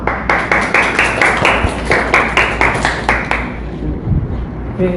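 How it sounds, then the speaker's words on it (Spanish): An audience in a lecture hall applauds to welcome a speaker, a loud run of distinct hand claps in a quick even rhythm that thins out and stops near the end. "Recibamos con aplausos, por favor."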